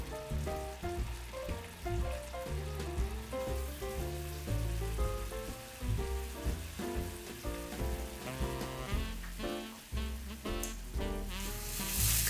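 Tomato sauce simmers and bubbles in a pan, a soft continuous crackle of popping bubbles with a brief louder sizzle near the end, no talking.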